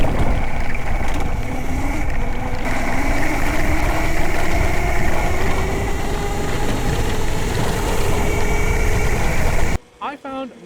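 An electric motor on a Yozma IN 10 Pro electric dirt bike runs as a loud, steady whine with a slowly rising tone, carrying on for most of the stretch before cutting off abruptly near the end.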